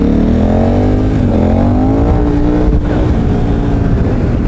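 Motorcycle engine fitted with a swapped motor, revving loudly and steadily up close, the pitch climbing and dipping through a few throttle blips with no speech.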